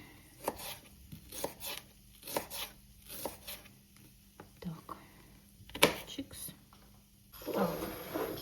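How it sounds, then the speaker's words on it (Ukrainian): Quick, crisp knife strokes cutting carrot into thin julienne strips on a board, arriving in short irregular bursts close by, with soft scraping between them. "нарізаємо морквочку на соломку"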